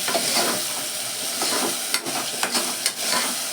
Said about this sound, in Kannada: ಇದೊಂಚೂರು 2 ನಿಮಿಷ ಫ್ರೈ ಮಾಡಬೇಕು ಆಲೂಗಡ್ಡೆ ಎಣ್ಣೆಲೆ ಥರ.